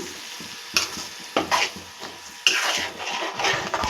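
Beans gravy curry being stirred in a pan of oil after water is added, with a soft continuous sizzle and several sharp scrapes and clinks of a spoon against the pot.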